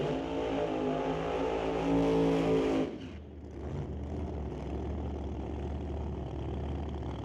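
A Camaro drag racing car holds a loud, high engine rev for about three seconds, then drops abruptly to a deep, rough idle that rumbles on steadily at the track.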